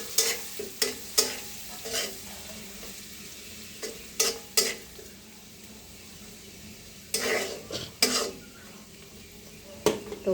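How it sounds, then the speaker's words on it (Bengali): Chopped coriander leaves are stirred and fried in a pan, with a soft sizzle underneath and a series of sharp spatula scrapes and clinks against the pan at irregular intervals. "ধনিয়া পাতা কুচিটা আমি এখন নেড়ে চেড়ে সুন্দর করে সফটভাবে ভেজে নেব।"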